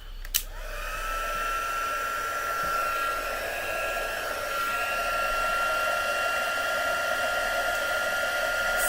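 A heat tool blows steadily while heat embossing stamped powder during a card-making craft session, a constant whirring airflow with a faint hum running alone for several seconds after a brief click at the start.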